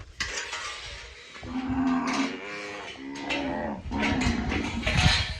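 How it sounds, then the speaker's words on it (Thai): Cattle being tended on a farm moo in several long, loud, drawn-out calls close by, with brief gaps between them and no talking. "วันนี้เลี้ยงวัว"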